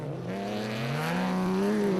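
A rally racing truck roars past at speed on a dusty track, its engine note climbing steadily in pitch as it pulls hard, loud and close with no voices.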